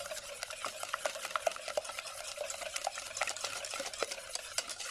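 Granadilla curd mixture with corn flour is gently stirred in a pot, giving a soft, continuous run of close scraping and swishing strokes with light taps of the utensil throughout.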